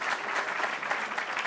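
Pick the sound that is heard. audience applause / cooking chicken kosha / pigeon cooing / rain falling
audience applause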